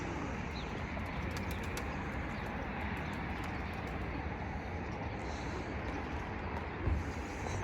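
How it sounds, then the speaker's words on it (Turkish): Tumbler pigeons in a coop give soft cooing and occasional wing flutters, heard over a steady, dense background hiss that stays even throughout. "Dostlar şöyle kuşları size yakından göstereyim."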